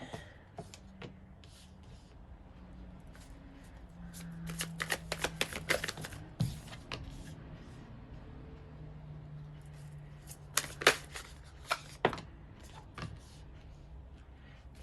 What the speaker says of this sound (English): And then we'll lay out some cards.